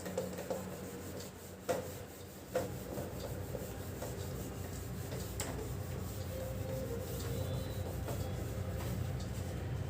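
Pencil marks being rubbed out on paper with an eraser during a geometry lesson on circles and tangents, a close, steady scratchy rubbing that continues throughout with a few brief knocks near the start.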